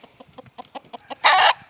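A Buff Laced cockerel clucks in a quick series of short, soft notes, then lets out one louder, harsher squawk near the end.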